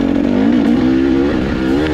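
A KTM motorcycle engine with an aftermarket pipe runs steadily on a night trail ride in Gifford Pinchot, a loud close drone holding a near-constant pitch with slight wavering.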